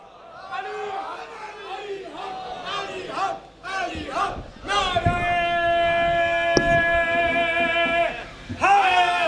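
At a Shia majlis a large crowd answers with a loud unison chant of the slogan Nara-e-Haidari, rising in sustained collective cries after a speaker's calls, echoing through the hall.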